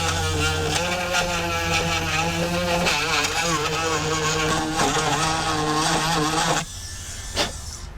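A power tool roughing up the inside of a broken Volkswagen New Beetle door handle tube, a loud steady mechanical whine with harmonic tones running for several seconds, then cutting off abruptly near the end, no talking.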